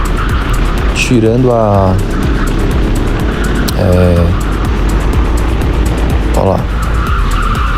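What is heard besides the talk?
racing go-kart engines on a track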